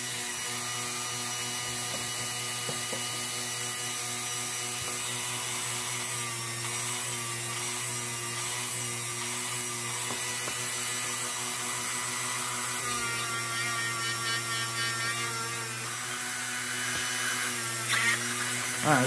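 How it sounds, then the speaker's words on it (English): Small polishing wheel loaded with brown compound buffing a part of a Rayo Pony No. 21 lantern, a continuous close whirring hum with rubbing friction that stays steady throughout. "Small polishing wheel."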